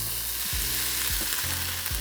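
Tempeh and leek mixture frying in an oiled pan, a steady close sizzle with occasional low stirring scrapes and bumps, no voices.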